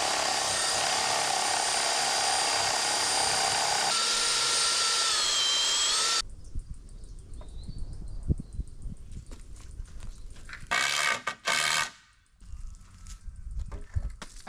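Power drill driving ground screws into rock hard clay soil, a loud steady whine for several seconds, then scraping, knocking and handling noises with short bursts of the drill.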